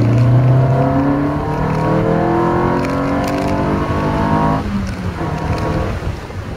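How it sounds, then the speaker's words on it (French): An MG MGF's four-cylinder engine drones loudly as it revs up through the gears, pitch climbing steadily, with a short shift dip before pulling again. "on entend un peu mieux grogner le 4 cylindres juste derrière son dos"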